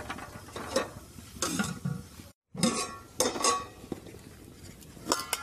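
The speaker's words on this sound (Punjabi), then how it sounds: "ਮਸਾਲੇ ਨੂੰ ਵਧੀਆ ਚੰਗੀ ਤਰ੍ਹਾਂ ਭੁੰਨਾਂਗੇ" Masala spices roasting in a pan for a home-style Punjabi aloo matar curry, with repeated scraping and clinking of a spoon against the pan in uneven strokes, a brief silent gap midway, no talking.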